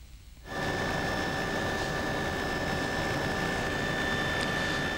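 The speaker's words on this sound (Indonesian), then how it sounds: "Hari ini dilakukan dengan menggunakan helikopter jenis Bolko." A Bölkow helicopter flying during a search-and-rescue operation near Tanjung Priok harbor produces a steady, loud turbine whine and broadband roar that starts abruptly after a brief quieter moment and holds constant.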